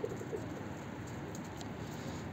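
A pigeon coos faintly and softly against a steady background hiss, a low repeated murmur in a coop holding an escaped pigeon caught from a rival's loft.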